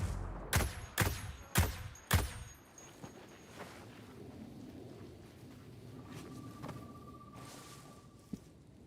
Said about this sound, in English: I'm about to throw a flashbang now.